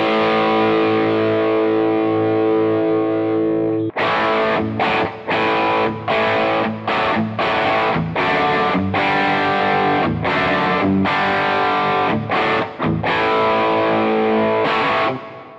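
Electric guitar through an Amplified Nation Ampliphonix amp set to a saturated, modded Plexi-style 80s tone: a long sustained distorted chord rings out, then a loud run of choppy rhythmic chords with short gaps between them.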